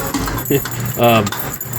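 Keys jangle briefly while laundromat machines are being opened, a close metallic rattle heard under a person's speech.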